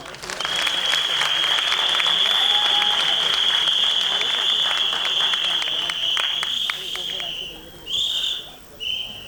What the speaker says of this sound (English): Don't you think that our little actors deserve a round of applause?